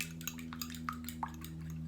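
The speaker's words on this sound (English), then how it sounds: "you just want to break up the eggs until they're completely yellow" A fork beating eggs taps and scrapes quickly against a bowl in a quiet, irregular rhythm, with a low steady hum underneath.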